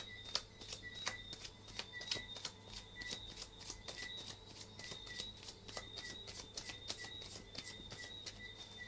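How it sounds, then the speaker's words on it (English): Rapid, crisp riffling of tarot cards being shuffled, repeated in quick rhythmic bursts, close and clear, with no voices. "Let's shuffle 2 more times."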